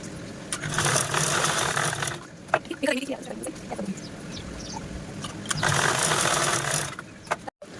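Sewing machine stitching piping onto a blouse piece, running in fast mechanical bursts separated by pauses, with someone talking in between the runs.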